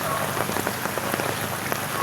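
Heavy rain pours down steadily during Typhoon Crising amid flooding, a dense, loud hiss of drops drumming on surfaces without pause and no voices.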